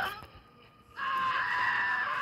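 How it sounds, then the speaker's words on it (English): A chicken in a video game is struck, giving a short, high, squawking cry that bursts out loudly after a quieter, muffled moment. "I hit a chicken."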